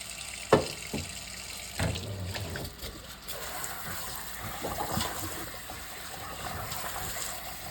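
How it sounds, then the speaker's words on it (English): Hot tap water pours over drained lasagna noodles in a kitchen sink, a steady close splashing trickle with a few soft knocks and clunks near the start. "I'll be draining my lasagna noodles and rinsing it with hot water."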